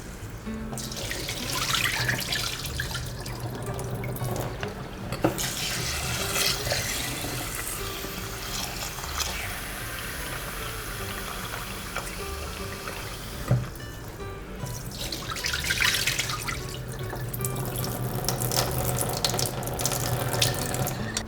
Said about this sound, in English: I'm going to wash and rinse my rice and drain all the excess starch